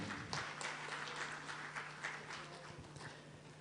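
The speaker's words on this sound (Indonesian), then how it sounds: "Tepuk tangan untuk pertemuan kita." Applause from attendees at a livestreamed book discussion, a quiet, fairly distant patter of clapping hands lasting a few seconds with a faint low hum underneath.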